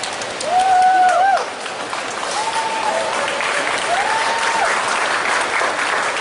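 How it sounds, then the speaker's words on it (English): A crowd at a holiday events reveal presentation applauds loudly and steadily, with whistles and cheers rising above the clapping near the start. "Let's keep the applause going for our incredible Gaylord stars."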